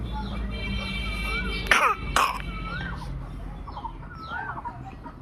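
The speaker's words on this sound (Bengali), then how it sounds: "দেখুন কেমন কাশি দিচ্ছে" An ill young boy coughs twice in quick succession, close and sharp, against a quieter background where hens cluck faintly on and off.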